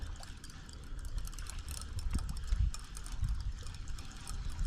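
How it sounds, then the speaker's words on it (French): Sea waves wash onto a beach during surfcasting for sea bream: a steady, fairly faint broadband rush with low rumbling swells and no voices. "Bon, en prime, j'ai des vagues."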